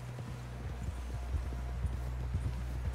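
Horse hooves clip-clop steadily in Red Dead Redemption 2, a continuous ride of even, close hoofbeats over a low droning background.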